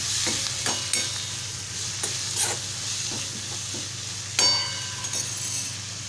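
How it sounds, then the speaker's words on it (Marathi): Malvani masala is stirred into a vegetable in a sizzling pan, with a spoon scraping and knocking against the metal in uneven strokes over a constant low frying hiss, close and fairly loud. "मालवणी मसाला घालत आहे आता व्यवस्थित मिक्स करून घ्यायचं आहे"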